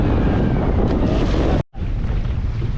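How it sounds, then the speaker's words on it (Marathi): Strong wind blowing over a fishing boat at sea, with a dense, loud roar and heavy buffeting across the microphone, broken by one brief dropout. "वारा प्रचंड जोराचा वारा सुटायला सुरुवात झालेली आहे"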